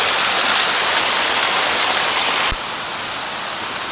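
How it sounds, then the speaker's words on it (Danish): Waterfall in Sapadere Canyon, a steady loud broadband rush of falling water that fills the whole clip and drops slightly in level partway through, with no voices. "Vandfald. Waterfall."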